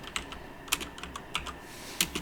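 Quiet, irregular keystrokes on a computer keyboard while typing code, a handful of soft clicks with uneven spacing and a couple of louder taps, heard close with no talk.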